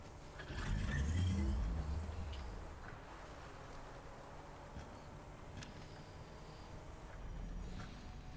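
A vehicle drives along a road in the video game Satisfactory, a soft steady engine hum that swells briefly early on and then continues quietly at a constant level.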